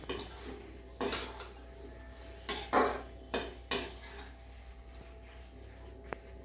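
Spoon scraping and clinking against a pan while stirring red pasta sauce over low gas, a series of separate metallic strokes in an uneven rhythm, fairly quiet, under a soft constant background hum.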